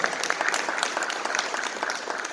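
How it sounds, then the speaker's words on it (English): Dense, steady applause from an audience at a DIY independent filmmaking panel at the Rock and Shock 2019 horror convention, a continuous wash of many clapping hands at even loudness throughout, with no voices. "Round of applause for our independent filmmaking panelists."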